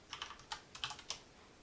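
Rapid keystrokes on a computer keyboard, several close, crisp taps in short uneven bursts, then quieter, with no voices.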